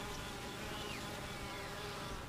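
Honey bees tending larvae in a hive make a dense, continuous buzzing hum, close and unbroken, with faint wingbeat tones drifting in and out.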